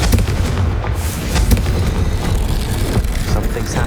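The Confringo fire spell in Hogwarts Legacy bursts with a deep, booming explosion, followed by rumbling blasts and crackling debris that stay loud and dense for a few seconds.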